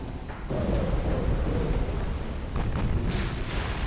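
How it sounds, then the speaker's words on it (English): Torpedoes fired from a warship in the naval game Ultimate Admiral: Dreadnoughts, a sudden deep rumbling whoosh that swells and holds as a loud, dense roar for several seconds. "Torpedoes away."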